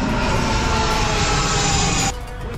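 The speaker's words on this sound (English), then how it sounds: "Fucking plane." An airplane passes overhead near a waterside workshop, a loud, broad roar with a high whine that holds steady and then abruptly drops to a lower rumble near the end.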